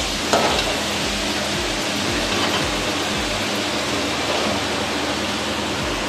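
Fish frying in hot oil spiced with chili powder, turmeric and cinnamon powder, a loud continuous sizzle close up with a few soft stirring knocks underneath.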